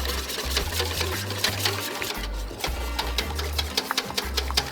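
An electric mixer whisks egg white with a continuous whirring drone that shifts in pitch, along with light rattling clicks as the beaters strike the bowl.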